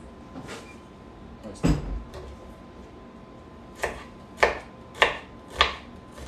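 Onion being chopped with a knife on a board, a few sharp scattered cuts early, then four crisp, evenly spaced chops close up near the end, with quiet room tone between.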